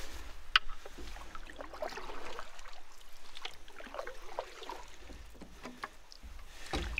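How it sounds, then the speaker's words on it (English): Canoe paddled upstream on the Cloquet River: soft, rhythmic paddle strokes dip and swirl through the water, with gentle splashes and drips close by in a quiet outdoor setting. "I'm gonna paddle upstream to start, and then probably just paddle back down to the landing."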